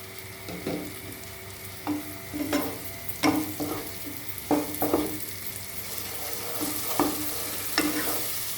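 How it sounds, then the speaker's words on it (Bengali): A spice paste of turmeric, chilli and coriander powder is stir-fried in oil in a pan for kima ghugni, a steady close sizzle punctuated by repeated scraping strokes of a spatula, with no talk. "মশলাটা আমি এখন কষাতে থাকবো"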